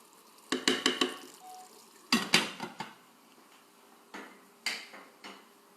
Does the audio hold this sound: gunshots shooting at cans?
no